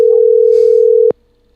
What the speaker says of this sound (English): Trying to see if Freebird will answer the phone